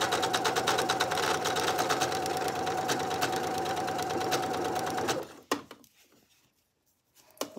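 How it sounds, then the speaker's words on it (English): A home sewing machine runs fast and close with a dense mechanical rattle from a loose bobbin, stops abruptly after about five seconds, followed by a few scattered clicks and handling noises. "My machine is sounding kind of weirdish. Like the bobbin is rattling around a little bit."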